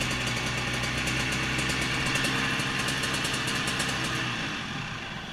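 A Rotax DD2 go-kart engine idles steadily at a fast, buzzing 3,700 RPM, holding even and close before easing off slightly at the end.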